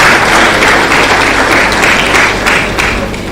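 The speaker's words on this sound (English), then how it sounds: "Please give the teachers a round of applause for this." Loud, sustained applause from a hall audience at a physiotherapy induction ceremony, dense overlapping clapping close to the recorder that holds steady throughout.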